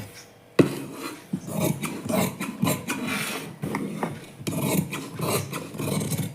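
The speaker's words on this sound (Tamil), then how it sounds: "இப்போ நம்ம வரைஞ்சதை அப்படியே கட் பண்ணிடலாம்." Scissors cut along a drawn line through blouse fabric, giving a steady run of close, raspy snips and rubbing strokes that repeat without pause.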